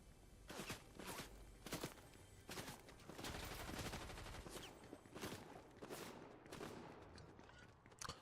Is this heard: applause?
no